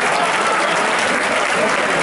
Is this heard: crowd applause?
yes